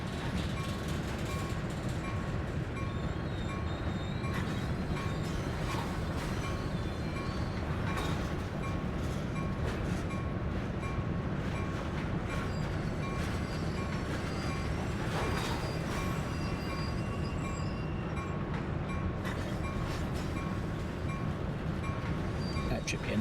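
A train in a railway simulator game rolls steadily along the rails with a continuous rumbling roar and faint clicking, sustained and fairly loud throughout with no talk.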